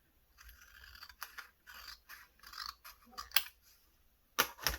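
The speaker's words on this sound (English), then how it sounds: "So I'm going to cut off a little bit over here." Scissors cutting paper for a junk journal page, a series of quiet close snips and short crisp crunches in an uneven rhythm, alone without talk.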